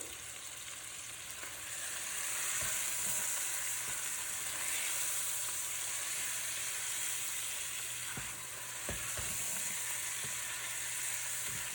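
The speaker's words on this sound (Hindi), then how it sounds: "तो अच्छी तरह से भून लेंगे।" Chicken karahi sizzles and fries steadily in a pan with chilli, turmeric and salt, with a few soft stirring knocks. There is no talking.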